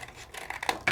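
Scissors snipping through black card paper at a crafting table, a few short close cuts with crisp rustling that builds to a sharper final snip.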